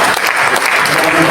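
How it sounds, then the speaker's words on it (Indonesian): An audience clapping at a Bamus Betawi 1982 community assembly speech, loud, dense and sustained applause from a crowd, close and continuous for the whole moment. "Tepuk tangan."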